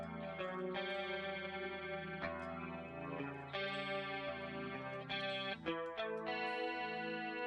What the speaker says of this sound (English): we're going to add modulation to it, and we're just going to do stereo chorus